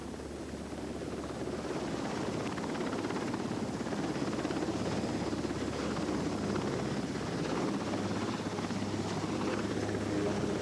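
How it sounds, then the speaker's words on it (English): A Sikorsky SH-3 Sea King anti-submarine helicopter drones steadily, a loud continuous rotor and turbine roar with low rhythmic thumping that holds throughout, with no voices. "like the Sikorsky SH-3 Sea King, can search for enemy submarines using a dipping sonar."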